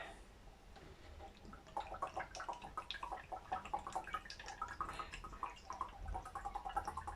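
Brake fluid drains from a Range Rover L322 through a funnel into a container, a close, continuous trickling with small drips and gurgles that grows steadier after the first second or two.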